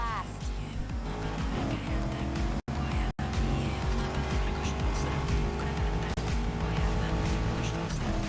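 A car engine roars and revs through a Need for Speed Heat race, with shifting tonal whine and occasional tire squeal, steady and close throughout, while a voice talks over it.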